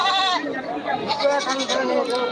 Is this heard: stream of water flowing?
no